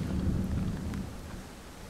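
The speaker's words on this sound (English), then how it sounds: "Kinda starting to rain." Soft, steady rainfall in bear-hunting mountain country, with a low rumbling undertone, quiet and continuous, gently fading toward the end.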